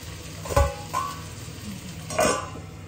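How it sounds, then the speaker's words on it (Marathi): Chopped tomatoes going into a hot pan, with a few soft stirring scrapes and light clinks of a utensil over a low, quiet sizzle. "2 टोमॅटो टाकते. आपल्याला टोमॅटो शिजून घ्यायचं 2 मिनिटं."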